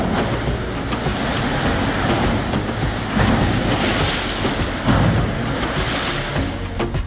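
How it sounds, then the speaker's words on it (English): Rough seas around a cruise ship rounding the Horn toward the fjords, with a steady broadband roar of waves and wind against the hull. Surges swell at times and the noise runs continuously without voices. "The rough seas made walking around the ship challenging"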